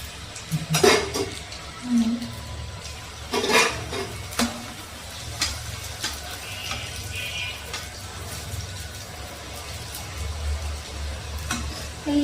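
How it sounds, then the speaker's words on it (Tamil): Garlic fries in a pan on a stove, with steady crackling sizzle and intermittent clinks and scrapes of a utensil against the pan, close and moderately loud. "இந்த பூண்டு வந்து ரெண்டு ரெண்டு தான் பொறிக்க முடியும் போல இருக்கு"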